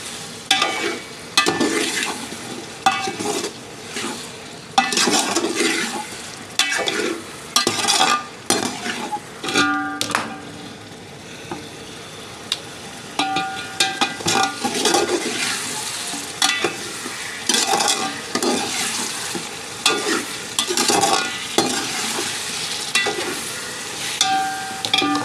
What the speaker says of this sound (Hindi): बीफ को इसके अंदर भून लेंगे।